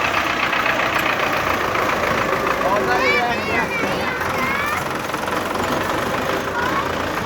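A Belarus tractor engine runs steadily, brought in to pull a stuck potato trolley, its constant mid-pitched drone filling the whole clip close by, with a brief higher whine partway through.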